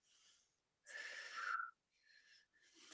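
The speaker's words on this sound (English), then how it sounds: "I'm just going to take a few deep breaths," A few deep, airy breaths taken slowly near the microphone, a long inhale followed by shorter exhalations, soft and with no talking.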